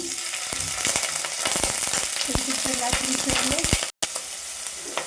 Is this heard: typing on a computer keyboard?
no